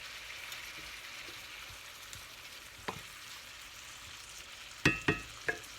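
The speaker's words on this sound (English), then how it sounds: "as I wait for the tomato and onion to cook for a little bit" Tomato and onion cooking in a pan for garbanzo bean soup, giving a steady soft sizzle throughout with a few sharp utensil clinks near the end.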